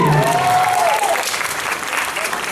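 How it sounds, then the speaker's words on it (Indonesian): Audience at a Yogyakarta city kethoprak theatre festival awards ceremony applauds the best performers, steady dense clapping throughout, with a brief tonal sound early on. "Monggo silakan untuk sekali lagi tepuk tangan untuk para penampil terbaik."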